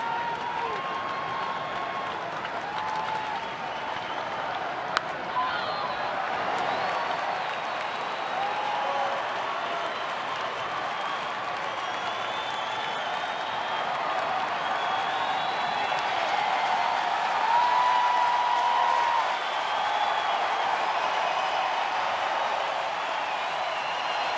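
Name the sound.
baseball stadium crowd noise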